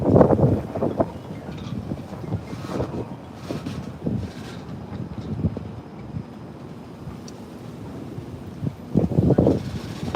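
Gusty outdoor wind buffets and rumbles across the microphone, rising and falling in uneven bursts over ten seconds, with no speech.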